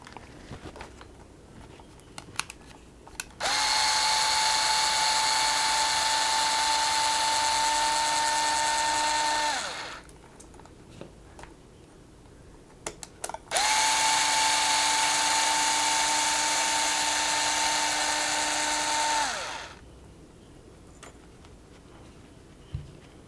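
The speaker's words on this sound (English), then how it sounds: "I'm going to remove the two screws on the top steering plate" A power driver unscrews the two screws from the top steering plate of an Arrma Kraton 6S RC car, two sustained whining runs of about six seconds each with a steady pitch that drops as each stops, with small clicks between.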